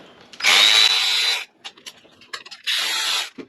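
A power tool spins out 10mm valve cover bolts on a BMW M52TU/M54 engine: two loud, whirring bursts of about a second each, with quieter clicks and rattles of handling between them.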